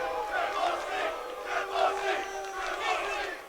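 A crowd at a UFC press conference boos in loud, drawn-out waves that rise and fall, filling the room with jeering voices.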